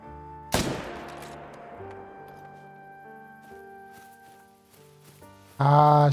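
A single sharp rifle shot rings out at an animal in the savanna hunting game theHunter: Call of the Wild, its report decaying under quiet ambient music, followed by a loud burst of game chime near the end.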